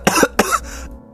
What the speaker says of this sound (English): See, that's a good fake cough.